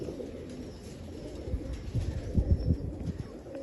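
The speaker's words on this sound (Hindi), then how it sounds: "ये सारे ब्रीडर कबूतर हैं हाजी साहब के" Breeder pigeons coo in low, soft, repeated murmurs close by, growing a little louder midway over a quiet background.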